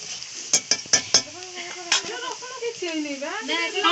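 Garlic tempering for frying saag greens in a pan: a utensil clinks sharply against the pan several times, then the garlic sizzles while a voice talks over the cooking.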